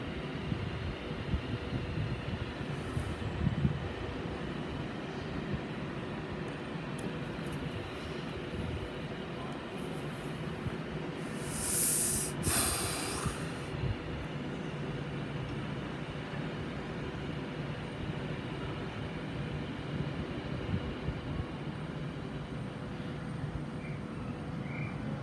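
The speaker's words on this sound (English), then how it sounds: "this came from Manchester Piccadilly, forming a Virgin Trains Pendolino service to London Euston" Virgin Trains Pendolino from Manchester Piccadilly to London Euston standing at Watford Junction on the West Coast Main Line, a low steady rumble and hum with a brief sharp hiss midway.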